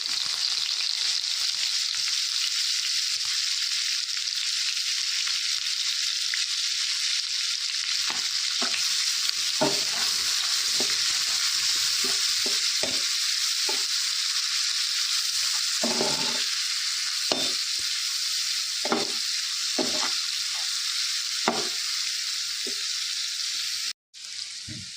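Onions fry in oil with cinnamon for an egg masala, producing a loud, continuous close sizzle with repeated scraping strokes of a spatula stirring the pan throughout.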